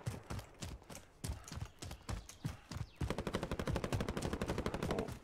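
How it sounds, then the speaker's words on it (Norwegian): Gunfire in the video game Warzone: scattered single shots and bursts, then a rapid sustained automatic volley, fairly distant and moderately quiet, with no talking over it. "Skudd overalt her."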